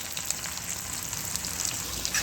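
Onions, curry leaves and turmeric fry in hot oil after mustard seeds have popped, the base for a brinjal fry, giving a steady close sizzle with fine crackles and pops throughout, no voices.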